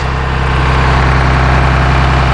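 A Cummins ISC 8.3-liter turbo diesel in a 2004 Blue Bird All American school bus idles at a steady, loud rumble with deep low-end vibration and no speech.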